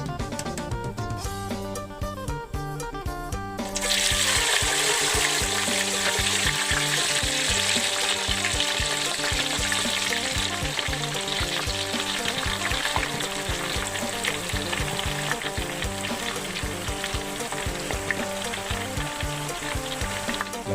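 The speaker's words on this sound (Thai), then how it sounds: "รอให้น้ำมันร้อนจัดๆนะครับแล้วก็ใส่ดวงลงไป" Sago palm weevil larvae hit very hot oil over high heat: a quiet, tonal opening gives way around four seconds to a loud, dense, steady sizzle that roars on to the end, with steady tonal sounds underneath.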